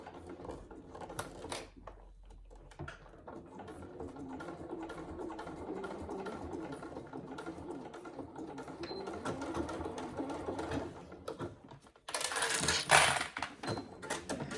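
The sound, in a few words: sewing machine stitching saddle bag layers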